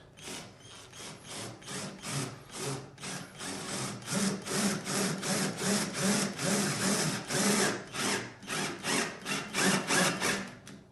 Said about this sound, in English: now it's just a case of putting the screw in